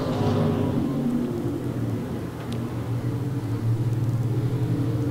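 Several dirt-track race cars thunder through a heat race at Farmer City, a steady loud engine rumble from a pack of cars rolling past, droning continuously throughout.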